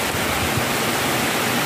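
Rain pouring steadily onto a farm water-collection setup with a waiting drum, a dense, loud, unbroken hiss of falling water.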